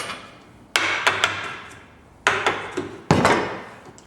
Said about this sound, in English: just make sure the chisel actually goes through the joint nicely